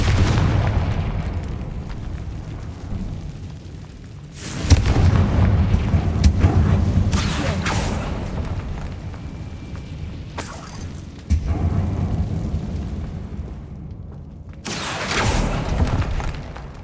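Confringo fire spells explode repeatedly in the Hogwarts Legacy video game, inside a decaying catacomb. Loud booming blasts with crackling, shattering debris come in several bursts separated by rumbling lulls, with no talk.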